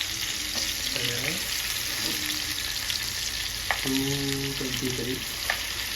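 Chicken pieces for chicken mandi sizzle steadily in hot oil, a constant crackling hiss with occasional scraping and stirring sounds, close by and without talk.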